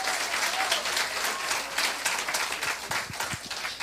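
A church congregation applauds Jesus during a sermon, a dense, steady burst of clapping from many hands at close range, with a few distinct claps standing out near the end.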